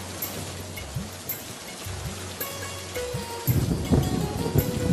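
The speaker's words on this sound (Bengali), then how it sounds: "শাপলা, দিয়া ও রাজু বৃষ্টির পানিতে ভিজতে ভিজতে নদীতে মাছ ধরতে যায়।" Cartoon rain falls as a steady hiss of drops over a day in the monsoon season, with soft rising chirps recurring in the background and the downpour swelling louder near the end.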